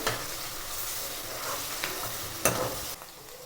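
Onions and green chillies with salt frying in a pan for homemade biryani: a continuous soft sizzle with gentle stirring, a few light scrapes and one sharp knock partway through, no voices.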